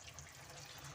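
Gobi manchurian cauliflower pieces fry in hot oil with a dense, faint, steady sizzle and crackle, close by and without speech.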